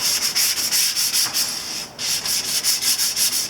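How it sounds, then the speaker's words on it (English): Sandpaper rubs by hand across primer on a Yamaha Virago 250 chain guard, a close, steady run of quick scratchy back-and-forth strokes with one brief pause midway. "We've got the primer sanded down quite a bit."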